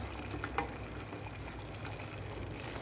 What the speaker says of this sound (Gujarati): આપણે જો આમ લાઈવ મલાઈ ગેસ ઉપર મૂકી દીધી છે